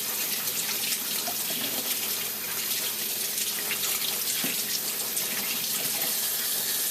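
Cold water runs steadily from a kitchen tap as hands are cooled before shaping tuna fish cakes, a continuous close hiss and splash with no talk over it.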